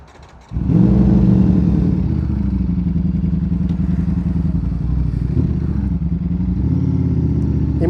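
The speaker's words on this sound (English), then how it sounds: "it's a Ducati, and it's a Panigale V4. Let's get on this thing. Let's start it up" A 2025 Ducati Panigale V4 superbike fires up with a sudden loud burst, then settles into a close, rumbling, lumpy idle with blips of revving throughout, heard alone at close range.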